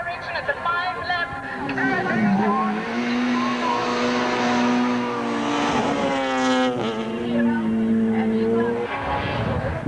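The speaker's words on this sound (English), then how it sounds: "With rally cars running tarmac specification tyres as opposed to full racing slicks, the cars are a handful around the sweeping coastal circuit" Volkswagen rally cars on tarmac-specification tyres race around a sweeping coastal tarmac circuit in a 2005 rally. Engines drone and rev continuously with brief tyre squeal, heard under steady commentary.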